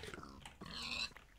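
Pigs in a video game give a short, low grunting snort lasting about a second, heard alone without talk.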